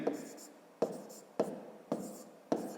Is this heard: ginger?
no